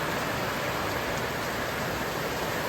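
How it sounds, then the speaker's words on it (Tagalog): Steady, dense broadband hiss of heavy rain pouring down without pause, loud and close, with no voices. "Lakas ng ulan."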